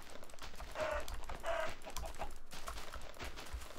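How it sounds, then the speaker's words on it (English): A chicken in the survival crafting game TerraFirmaCraft clucks twice in short bursts over steady game ambience and footsteps, moderately close and without speech. "Where do you think you're going, chicken?"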